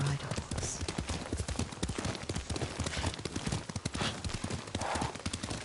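Horse hooves clip-clop steadily at a riding pace in Ghost of Tsushima, a continuous close rhythm of hoofbeats under faint background ambience.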